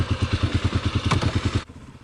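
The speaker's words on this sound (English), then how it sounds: "Let's go off-road with the KLX on the little mini loop, the easy loop." A Kawasaki KLX250 dual-sport motorcycle rides off-road on an easy dirt loop, its single-cylinder engine thumping in a fast, even rhythm, close and loud, then cutting off sharply near the end.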